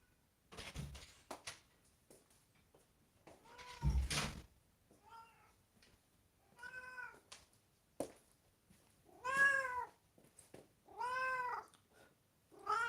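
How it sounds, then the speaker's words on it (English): A pet cat meows again and again, each clear, close, rising-and-falling cry separated by short pauses, with a couple of dull thumps early on and no talking. "I will pick one of my cats."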